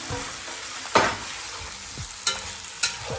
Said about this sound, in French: je vais devoir remettre les morceaux de pintade dedans. Je vais mélanger les tout.